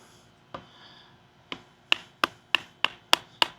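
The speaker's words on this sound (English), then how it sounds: "That hammering through nicely." Sharp hammer blows drive a WorkTuff Gear Nomad bushcraft knife into wood, starting slow and irregular, then falling into a steady rhythm of about six hits, close and crisp.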